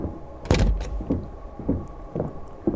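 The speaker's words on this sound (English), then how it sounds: "You can hear him moving and opening and closing doors and stuff." Doors opening and closing in a first-person horror game built in Godot 4, heard as a series of muffled, hollow thuds spaced through the moment, with no one talking over them.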